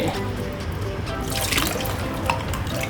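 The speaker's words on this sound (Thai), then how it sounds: "ว้าวดูที่น้ำไหลออกมาด้วย น้ำไหลไม่ใช่น้ำลาย" Water pours and trickles out of an inflatable backyard pool, a steady splashing flow with a few brighter drips, close and continuous throughout.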